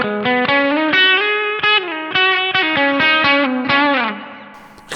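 Clean electric guitar notes and chords through a Mosky Classic M amp simulator pedal, with reverb from a Line 6 M5, play in a steady rhythm, each ringing with a reverb tail, fading out at the end.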